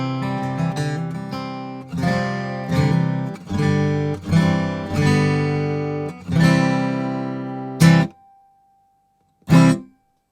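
An acoustic guitar in a remote home recording session, captured through an SM87A microphone: a series of close, bright strummed chords in a loose rhythm, then a pause and two final ringing strums with a faint sustained tone between.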